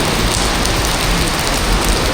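Steady, heavy rain pours down in a dense, continuous hiss, loud and close, at an MRT 3 station by the elevator and escalator, with no other sounds standing out.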